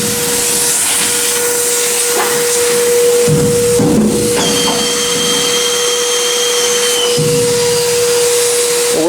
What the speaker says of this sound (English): Got the shop vac flipped around on below. Made a tip out of Gorilla Tape.